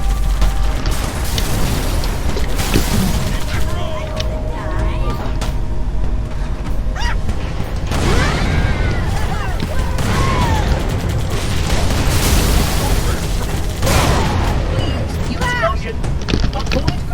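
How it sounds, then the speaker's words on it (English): Explosions and mechanical battle noise from the video game Halo 3, a dense continuous din with several louder bursts and crackling debris, with voices speaking over parts of it. "Explosion."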